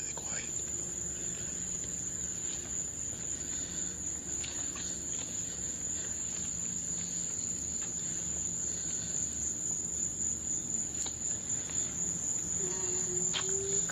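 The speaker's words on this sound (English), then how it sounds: "Crickets are going mental." Crickets chirp in a steady, high, continuous trill throughout, with a quiet background and a few faint knocks.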